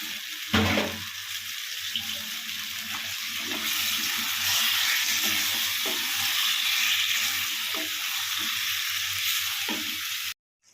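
Chicken sautés in a pan in the juices it releases, for a Bengali mustard-poppy chicken dish: a steady, fairly loud sizzle and hiss runs throughout, with occasional clinks of stirring.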